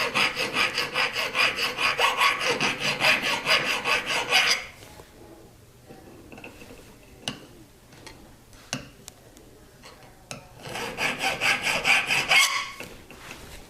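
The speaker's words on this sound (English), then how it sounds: "take your file and you can file away each of the different corners and the inside of your ring." Hand file working a metal jewelry ring: close, rapid rasping strokes in two bursts separated by a quieter stretch of small taps and clicks.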